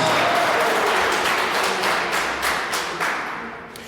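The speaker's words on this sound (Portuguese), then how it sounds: "Jonas, ele instrui-nos que pode aplaudir, como não?" Applause from a church congregation rises as a dense wash of claps with scattered sharper hits, steady at first and then gradually fading over a few seconds, with no voices over it.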